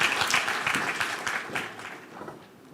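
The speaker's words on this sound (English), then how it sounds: "Big round of applause for Guy Wittig," An audience at a circular economy forum applauds a man walking on stage, with dense clapping that is loud at first and gradually thins and fades.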